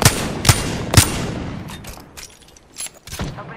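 Gunfire from the video game Apex Legends, with three sharp, loud shots about half a second apart, followed by a scatter of fainter, more distant bursts.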